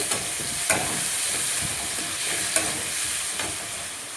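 Fish curry and vegetables fry in a pan with a steady, close sizzle and hiss, broken by a few sharp scrapes and stirs.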